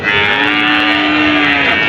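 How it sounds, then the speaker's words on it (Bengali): A cow at a cattle haat in Rajshahi gives one long, loud, sustained low moo that fills the whole moment, close to the listener, with no talking over it. "আমরা একটু লিটন ভাইয়ের কাছে শোনার চেষ্টা করব সবগুলো গরু যদি একসাথে নেওয়া যায় তাহলে কেমন কী দাম বলছে"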